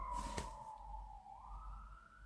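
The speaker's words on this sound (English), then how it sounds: "Sirens, how inconvenient." A distant emergency siren wails faintly, its tone sliding slowly downward and then rising again, with a brief burst of noise near the start.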